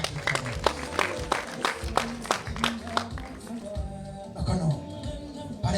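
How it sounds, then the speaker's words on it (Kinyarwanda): Wedding crowd gives sustained applause with rhythmic clapping and bursts of ululation, fairly distant and continuous, with a voice speaking over it. "amashyi n'impundu rwose byaba bimukurikiranye"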